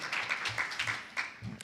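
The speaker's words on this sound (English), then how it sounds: "Yes, clap." An audience claps at a panel discussion, a brief, fairly quiet patter of hand claps from a small crowd, uneven and scattered rather than a full ovation.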